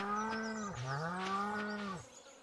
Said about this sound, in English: Got the cows.